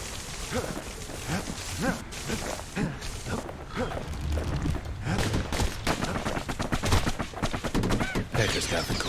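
Gunfire in the video game Bastion crackles in rapid bursts and volleys, dense and fairly loud, mixed with lighter clattering impacts throughout.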